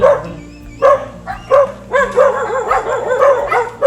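A house dog barks repeatedly at visitors arriving at the home, a run of loud, close yips and bow-wows in quick bursts with short pauses between them.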